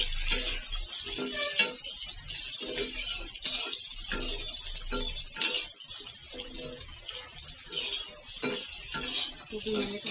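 Capsicum stirred and fried in oil in a pan, busy metallic scraping and clinking of a utensil against the pan over a light sizzle, close and irregular, no talking.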